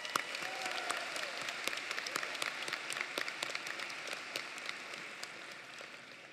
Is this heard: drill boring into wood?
no